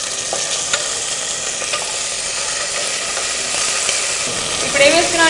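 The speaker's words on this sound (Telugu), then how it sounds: "దాంట్లో కొంచెం ఆయిల్కి బదులు నెయ్యి వేసుకున్నాం అనమాట" Pulao spices frying in ghee in a deep pan give a loud, steady sizzle with repeated scraping of a stirring spoon, close up and without talk.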